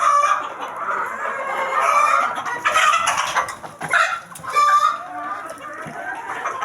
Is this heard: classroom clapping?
no